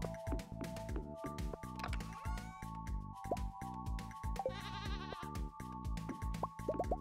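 A goat in Stardew Valley bleats in short, repeated cries over a busy bed of plucky game music and dripping, squishy effects. The bleats come quietly and are heard without any talking.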